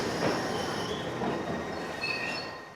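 A train at Euston railway station rumbles past with squealing wheels and metallic clatter, a loud, continuous close pass that fades slightly toward the end.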